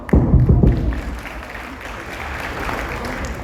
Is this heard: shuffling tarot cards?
no